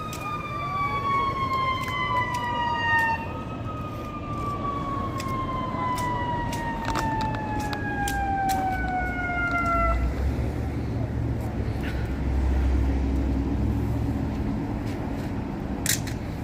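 Ambulance sirens arrive at a major traffic collision in Huntington Beach involving a work truck pulling a trailer and a white Honda. Several overlapping sirens wail in long falling sweeps for about ten seconds, then fade into steady traffic rumble.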